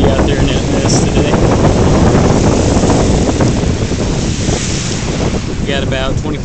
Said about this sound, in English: We got about 25-mile-an-hour winds, and they're only supposed to get worse.